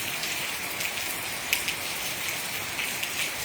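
Heavy rain pours steadily onto bare soil rather than concrete, a dense continuous hiss with occasional louder drop impacts, close and unbroken, with no voices.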